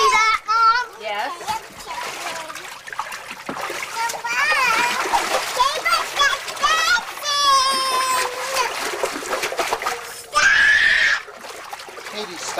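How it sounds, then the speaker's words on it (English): A child splashing water during family play, with bursts of splatter repeated across the stretch, mixed with children's excited talk and screams and an adult voice nearby. "stop splashing"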